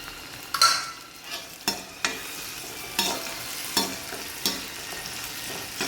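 Chopped onions are sautéed in hot oil with popped mustard seeds and urad dal for a bitter gourd curry, with a soft steady sizzle punctuated by regular sharp scraping strokes of a spoon against the pan.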